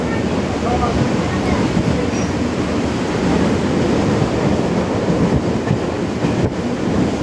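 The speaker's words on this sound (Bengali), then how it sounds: "তো ফাইনালি ট্রেনটা ছেড়ে দিয়েছে।" A train pulling away on a stormy, rainy day, heard from inside a carriage as a steady, loud broadband rumble and rattle with no clear breaks throughout.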